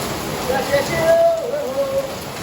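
Steady heavy rain hisses and patters throughout while a person talks or calls out over it.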